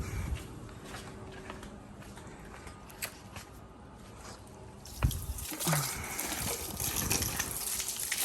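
A steady low wash of running water as a Honda Wave 100 motorcycle is rinsed, swelling into a loud, forceful gushing spray partway through, with brief clatters and a short squeal.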